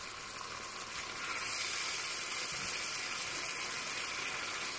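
Chicken pieces fry in a karahi pan with a steady, even sizzle and crackle that swells slightly after the first second, close and constant with no talking.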